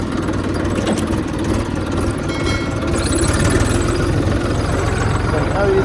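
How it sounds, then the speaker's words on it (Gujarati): A small Mesodi tractor engine runs at a steady idle in a cotton field, a loud, continuous low rumble with vibration that fills the whole clip. "ચલો કરી નાખીએ મેસોડીને ચાલુ."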